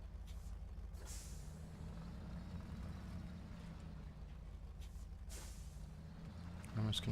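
Heavy off-road truck from Spintires: Mudrunner driving with a steady low engine rumble and drone, a brief air-brake-like hiss near the end, no talk over it.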